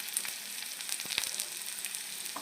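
Quiet, steady sizzle of a small amount of oil frying on low heat while making lemon rice, with soft crackles and pops scattered through it.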